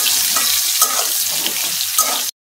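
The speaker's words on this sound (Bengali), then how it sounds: "কড়াইয়ে তেল দিয়ে দিছি, তেলটা আমার গরম হয়ে গেছে। এখন সয়াবিনগুলা হালকা ভাজা নিই।" Soaked soybean chunks fry in hot oil in a wok, giving a steady, close sizzle with a few brief louder pops and spatters, then cutting off abruptly near the end.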